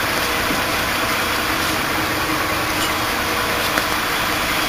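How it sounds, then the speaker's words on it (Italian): Two stationary city buses idle with engines running on a snowy street in Rome, producing a constant, even mechanical drone with no change in pitch or level, and no voices over it. "sono due autobus fermi, col motore acceso"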